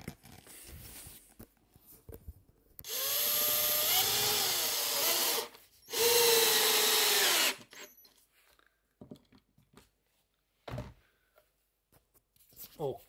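A power tool drives screws into floorboards during a house renovation, with two loud sustained whirring bursts separated by a short pause, then quieter handling knocks and scrapes. A person talks nearby.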